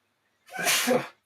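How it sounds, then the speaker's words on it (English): A single loud sneeze bursts out close by after a moment of silence, then stops abruptly. "I feel a sneeze coming."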